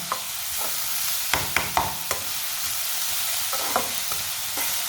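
Onions sizzle softly in a pan under a steady hiss, punctuated by several sharp scrapes and taps of a spoon stirring them, with no voices.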